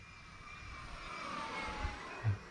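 A radio-controlled model jet makes a slow, low pass overhead, its steady ducted-fan whoosh faint and distant, swelling gently toward the middle before fading, with a brief low bump near the end.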